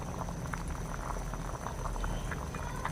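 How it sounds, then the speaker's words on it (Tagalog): Goat head soup with tamarind bubbles and boils steadily in a pot, a continuous low churning with small popping bursts, fairly quiet and close. "Ayan mga katoks, kumukulo na po."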